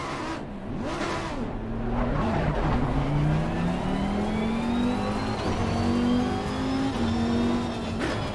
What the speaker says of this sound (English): that is, I think, just a standard gearbox noise